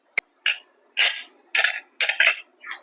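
A lid is closed on a pressure cooker pot of mutton intestine curry with onion and tomato, giving a sharp click and then several short, close metallic clattering bursts.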